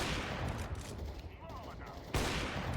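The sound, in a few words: gunfire in the video game Counter-Strike 2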